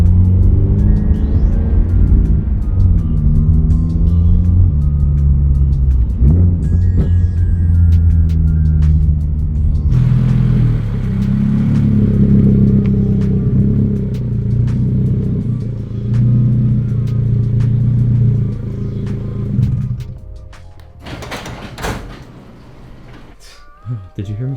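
A 2022 Toyota GR86 or Subaru BRZ engine turns over and revs loudly up close, with shifting harmonic pitch that drops off near the end, while someone talks over it.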